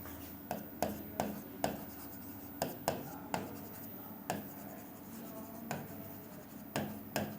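Pen strokes of notes on mitochondria being written, a quiet steady scratch broken by sharp taps and short scrapes in an irregular rhythm, close by, with no talk.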